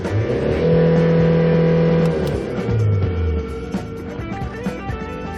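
A diesel Hyundai Starex van engine with automatic transmission revs up and holds a high, loud whine, then drops back, settling into a lower, uneven running sound up close.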